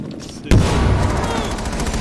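Fireworks in Rainbow Six Siege erupt with a sudden loud blast after a brief quiet start, followed by a dense crackling, rumbling barrage that keeps going at steady loudness.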